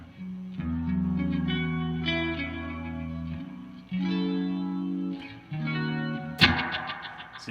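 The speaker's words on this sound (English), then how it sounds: "You can hear that little stutter effect there." An electric guitar plays through a BOSS RE-202 echo pedal, sustained distorted chords swelling with repeating echoes, then a sharp stuttering burst of rapid repeats near the end.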